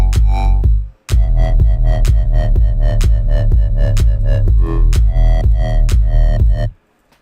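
Massive synth wobble bass in a future house or deep house style, its pitch automated upward. Loud, dense, rhythmic pulsing fills the passage with one brief break near the start, and no voices.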